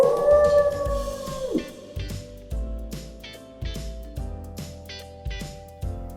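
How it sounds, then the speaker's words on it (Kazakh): A wolf's long, loud, falling howl rings out alone at the start, then gives way to rhythmic music. "Қасқыр қалай істейді?"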